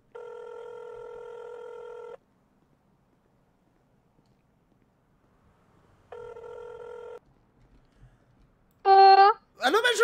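A telephone rings twice, two steady electronic trills separated by a long silence, followed by brief talk at the end.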